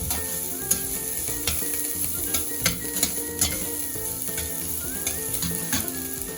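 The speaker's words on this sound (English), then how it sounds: "Stir it for a bit. Let the shallot cook." A single shallot sizzles steadily as it is stir-fried in a pan for cabbage, with a continuous crackling hiss and brief louder spikes as it is stirred; no voices.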